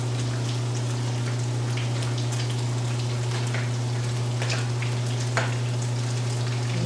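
Latkes sizzle steadily in a frying pan, a dense crackling hiss with scattered pops under a constant low electrical hum, close and continuous with no talking.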